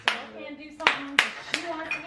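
A child claps hands in four or five sharp, separate claps at an uneven pace, close and clear, with a faint voice in between.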